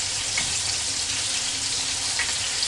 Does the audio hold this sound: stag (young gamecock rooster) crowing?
no